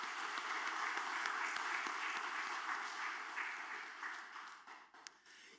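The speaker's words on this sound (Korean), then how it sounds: "할렐루야 찬양대 주일 경배 찬양팀 축복하고 격려하는 박수 하도록 하겠습니다" A church congregation applauds its choir and worship team at a Sunday service, a faint, steady wash of clapping that thins out toward the end.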